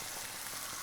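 Kidney beans sizzling in a heavily spiced mixture in a pan, a brief, steady, hissing fry heard close and fairly soft.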